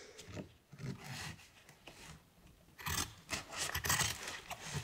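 Scissors cutting through yurt canvas fabric, with rough rasping snips and longer gliding cuts, close and fairly quiet.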